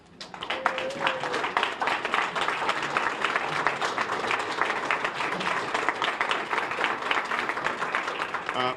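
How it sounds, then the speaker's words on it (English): An outdoor crowd at a ribbon cutting for a housing center gives continuous, moderately distant applause with scattered sharp claps, sustained for several seconds with a voice briefly heard underneath. "I want a round of applause for the people that we really do this for, but our future residents."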